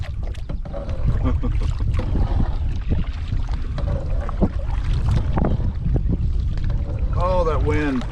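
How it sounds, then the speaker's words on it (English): Wind rushes over a canoe out on the water, a steady broadband whoosh across the whole clip with some background talk near the end. "Oh, that wind."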